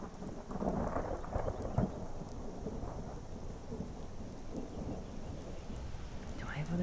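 Video game weather effects: steady rain with rumbling thunder, a continuous wash of rainfall holding at an even level throughout, with a few deeper rolls and a sharper crack partway through.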